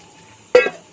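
A little water splashes into a hot cooking pan of simmering vegetable stems, a single brief hiss and spatter that breaks a near-quiet kitchen and fades within a moment.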